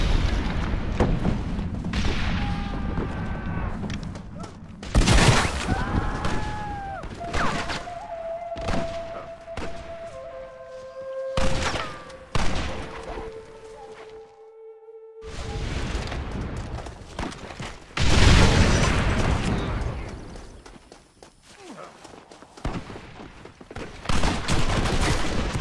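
Shotgun blasts in the Western video game Red Dead Redemption: loud booming shots in irregular bursts, each with a sharp attack and short rolling tail, mixed with gunfire and game sound effects and chiming tones.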